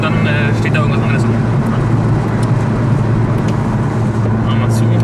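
A Mini Cooper S with its supercharger whining drives a mountain road, heard from inside the car as a loud, steady engine drone that holds through the whole stretch, with people talking over it.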